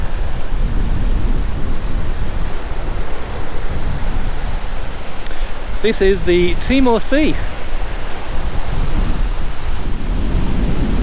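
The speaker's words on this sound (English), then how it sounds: "It's very, very windy, but such a pretty place." Strong wind roars steadily against the microphone alongside crashing surf on the Coburg Peninsula, Garig National Park, with a person speaking briefly in the middle.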